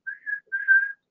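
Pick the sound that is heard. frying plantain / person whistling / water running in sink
person whistling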